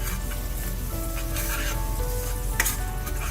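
Ground masala paste for a Goan fish curry cooks down in a pan. It gives a steady, close sizzle and spatter, with a few louder pops and stirring scrapes.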